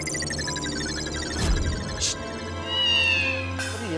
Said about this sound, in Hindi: ये तो वही बिल्ली है जो पोपटलाल के घर के बाहर थी।